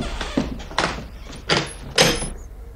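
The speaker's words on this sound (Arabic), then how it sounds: "فلأفتح الباب لأعرف من يكون هذا الضيف." A door being opened: a run of four clunking, rattling thuds from the handle, latch and wooden panel at even intervals, close and fairly loud in a quiet room.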